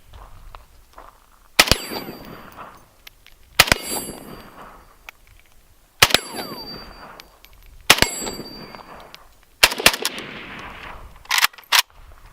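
Rifle shots from a 7.62x39 ring off a stainless steel target outdoors, each sharp crack followed by a bright metallic clang; about six loud impacts spaced irregularly, the last few coming in quick succession.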